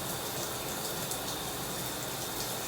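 Water runs steadily from a tap while starter locs are rinsed during a hair wash, a soft continuous gush of fairly faint, even flow with no talking.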